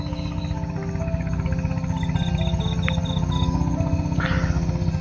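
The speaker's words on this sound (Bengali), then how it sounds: "সাথে তো ঝিঝি পোকার ঝিঝি শব্দ আছেই" Crickets chirp steadily at night at a lakeside resort in Rangamati, Bangladesh, a dense, continuous insect chorus with a clearer pulsing chirp line standing out midway, and a low constant hum of other night sounds beneath.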